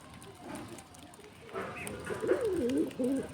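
Close, low cooing rolls in a rising-falling string from a pet pigeon with bloodshot red eyes being hand fed, growing clearer through the second half against a soft indoor hush.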